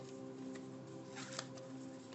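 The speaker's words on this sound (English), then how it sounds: "Shuffling." Tarot cards being shuffled in the hands during a reading, a soft papery riffle and flutter of cards that swells briefly in the middle, with a low steady hum underneath and no talking.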